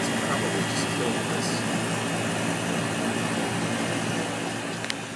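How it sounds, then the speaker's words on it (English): Air conditioning unit running as a loud, constant broadband whoosh and hum, with a few faint clicks and a slight fade toward the end. "the air conditioning is probably just killing"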